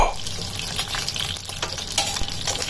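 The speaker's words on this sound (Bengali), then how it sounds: "মাছ ভেজে নেওয়া হয়ে গেছে, তুলে ফেলব।" Fish pieces frying in hot oil give a steady, close crackling sizzle with scattered pops and a few brief clatters of a utensil against the pan.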